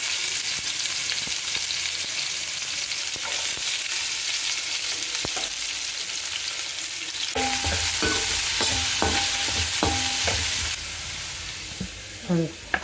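Onions, green chilies and curry leaves sizzle loudly in a hot pan with whole spices, a spoon stirring and scraping in irregular clicks over the constant frying hiss.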